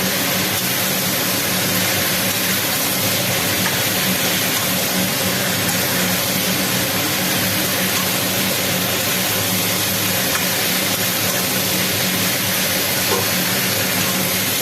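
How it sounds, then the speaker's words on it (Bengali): Ingredients for a taro and shrimp curry sizzling and being stirred in a pan, a steady dense hiss that runs unbroken throughout, close and fairly loud, with no talking. "এবার সমস্ত উপকরণগুলোকে নাড়াবো।"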